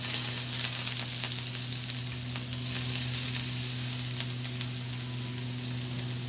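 A mix of small red and white onions sautés in hot oil in a frying pan, giving a dense, even sizzle that holds close and steady throughout with no voices.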